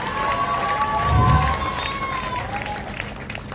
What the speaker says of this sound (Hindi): तालियों में जान नहीं है।